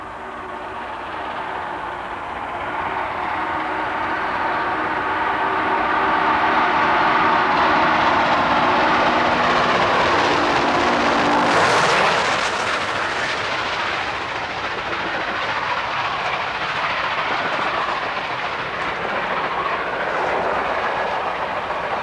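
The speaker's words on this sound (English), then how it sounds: "our train is moving about as fast as she can" Southern 2716 steam locomotive hauling a 1982 excursion train at top speed, a loud continuous rush of rolling wheels and clatter that swells as it passes close by, then roars on with a sharp burst of noise.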